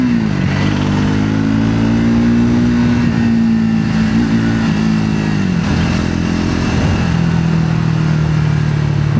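A Triumph Scrambler 400X, a 398cc 40 horsepower single, accelerates steadily on the road, its engine drone loud and close, rising slightly then easing through a gear change amid constant wind noise.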